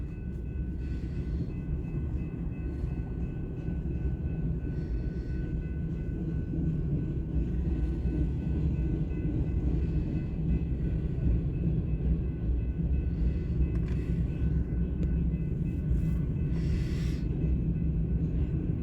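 Freight train passing near Ashland, Fremont and Omaha, a steady low rumble of rolling wagons sustained close by throughout, with faint higher squeals and clanks surfacing now and then.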